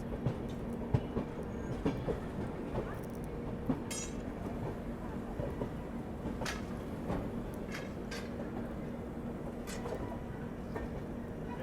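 The Lucknow–Raipur Garib Rath Express runs after departure, with a steady low rumble and rhythmic clickety-clack of wheels over rail joints, plus scattered clanks inside the coach.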